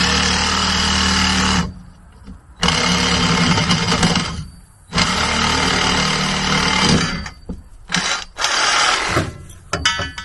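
A Sawzall reciprocating saw cuts into a gong target stand, a loud, harsh, buzzing rasp that runs in long bursts broken by brief pauses where the blade stops or catches.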